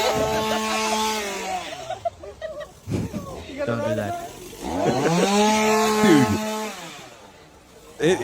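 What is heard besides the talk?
chainsaw running in a played video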